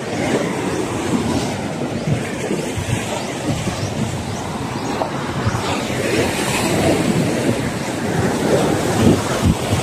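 Steady broadband rushing noise of wind by the sea at a beach in San Juan, Batangas, like wind and surf blending together, continuous and fairly loud with no clear voices.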